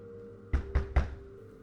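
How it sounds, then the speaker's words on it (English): Three evenly spaced, heavy knocks strike a door in a quiet room, close and dull, set against a faint steady hum within a scary story. "There was a knock at the door."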